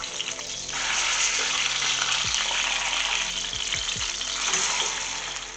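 Seasoned salmon fillet sizzles flesh side down in a hot pan, a steady loud frying hiss with a few faint pops, with no one speaking.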